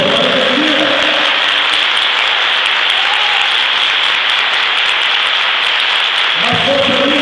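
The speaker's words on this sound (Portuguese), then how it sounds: "vai aplaudir Jesus nessa festa para ele" A church congregation at a festive service applauds loudly and steadily in a continuous wash of clapping, with faint voices mixed in and a brief musical tone near the end.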